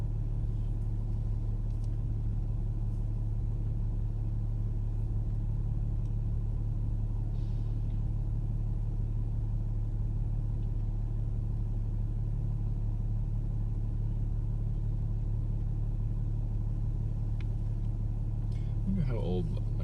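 A car drives through Boston on a chilly day, heard from inside as a steady low engine and road rumble that continues without a break.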